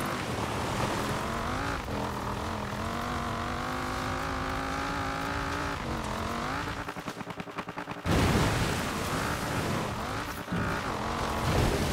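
A Forza Horizon 4 racing car engine drones steadily with shifting pitch, then breaks into a fluttering, choppy rattle while the car is airborne before roaring back loudly.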